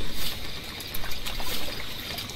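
Water trickles and dribbles in the horror video game RAKE, a continuous, fairly close splashing flow that swells and eases in small surges with no talk over it.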